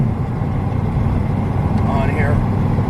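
A 1968 Mustang with a 302 V8 longblock idles steadily in a garage, a low continuous engine rumble, close and fairly loud, with a faint voice briefly in the background.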